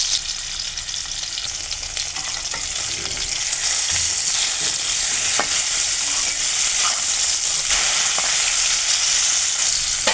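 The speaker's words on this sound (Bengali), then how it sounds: "এদিকে ইলিশ মাছ ভাজাটা হতে থাক" Hilsa fish frying in hot oil gives a loud, continuous sizzle that swells and grows fuller partway through, with faint stirring scrapes under it and no talking.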